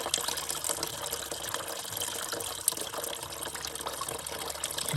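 A mix of water and engine oil gushes from the drain of a 1926 Fordson F tractor into a drain pan, a steady, moderately loud splashing pour with no break.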